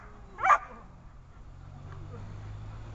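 A single dog bark rings out briefly at a distance, then a low steady rumble continues with no further barks.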